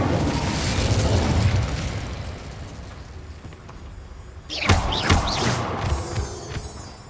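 A fire spell erupting in Hogwarts Legacy, a roaring whoosh of flame that fades away, then a sharp crackling burst with several quick bright pops partway through.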